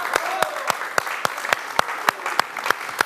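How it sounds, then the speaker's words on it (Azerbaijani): A studio audience on a Azerbaijani TV show claps in steady unison, sharp evenly spaced beats about four per second over a soft bed of scattered clapping. "Özünüz alqışlayın"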